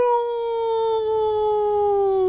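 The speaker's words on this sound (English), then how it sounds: "wailed the five, and they yowled and they howled" A single wolf-like howl, from a haunted-house tale of a werewolf and her five wolf cubs, holds one long, loud, steady note with a slight downward glide and no talk over it.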